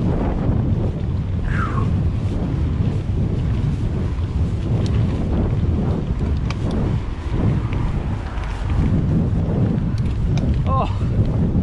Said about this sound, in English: Oh, savage headwind.